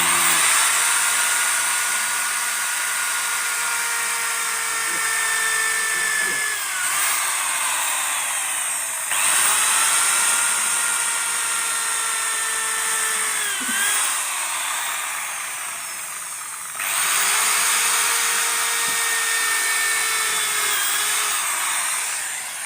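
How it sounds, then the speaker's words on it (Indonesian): Power drill boring through the glued spine of a library book during repair, a steady loud whining drone that runs continuously with three short dips and restarts, no voices. "Buku dibersihkan punggungnya dari lem, dibor dulu."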